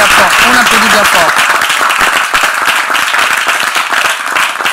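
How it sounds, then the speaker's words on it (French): Church congregation applauding loudly and continuously, a dense wash of many clapping hands close by, with a voice briefly audible at the start. "On applaudit bien fort."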